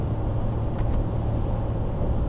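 A RAM Mega Cab pickup cruising at about 58 mph in sixth gear around 1600 RPM, giving a steady low engine drone and road rumble inside the cab, with no talking.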